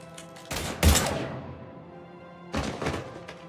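Gunfire in the video game Mass Effect 3, two bursts of heavy thumping shots about two seconds apart, close and punchy against a quiet background.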